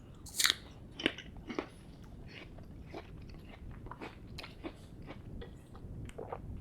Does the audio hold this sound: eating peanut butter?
yes